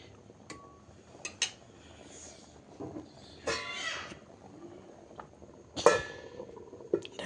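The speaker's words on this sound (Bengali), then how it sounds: "এখন আবারও ঢাকনা দিয়ে ঢেকে দিব" A metal lid goes onto a cooking pot of bottle gourd curry on the stove, giving a few light clinks and clatters spread over several seconds, with quiet kitchen noise between.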